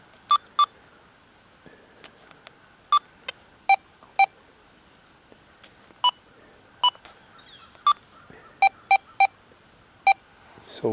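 A Deus 2 metal detector gives short, sharp iron tones, a dozen or so brief beeps in an irregular rhythm over faint background hiss, with no voice over them.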